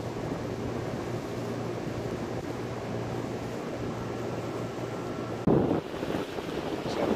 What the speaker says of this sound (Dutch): Nog geen minuut later zitten we op de boot.